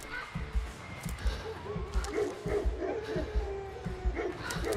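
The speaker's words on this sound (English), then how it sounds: "These dogs are almost upon us." Dogs bark repeatedly in pursuit in Sherlock Holmes: The Devil's Daughter, rhythmic low barks every half second or so, fairly close, with a voice talking over them.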